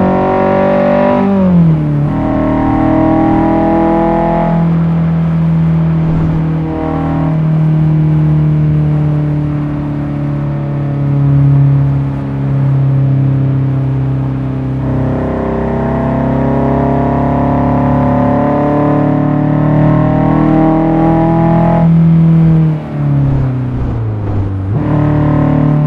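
A Honda S2000 engine revs strongly while cruising a Japanese highway in Assetto Corsa on a cloudy day, loud harmonic engine note rising and falling through gear changes, alone without talk.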